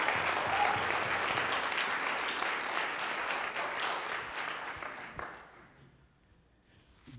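A church congregation applauds continuously, a dense wash of many hands clapping at moderate distance that holds steady and then fades away near the end.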